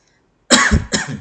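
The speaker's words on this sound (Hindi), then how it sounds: "खांसी हो रहा है।" A single loud, harsh cough bursts out of silence, followed quickly by a second shorter cough, close to the listener.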